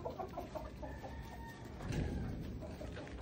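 Chickens cluck and a rooster crows faintly in a yard with mango trees, a quiet, steady backdrop of fowl sounds with a slightly louder swell midway.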